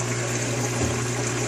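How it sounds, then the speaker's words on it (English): Water runs steadily from a pipe into a 1.5-inch aquarium drain line, producing a continuous near rushing flow with a low pump-like hum underneath, alone without talk. "So the water comes from that pipe."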